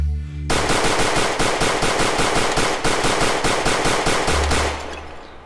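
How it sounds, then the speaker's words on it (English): Automatic pistol fire from the video game Hotdogs, Horseshoes and Hand Grenades, a loud, rapid, evenly spaced burst of shots lasting about four seconds, then a brief mechanical tail. "Oh, you can use automatic pistols."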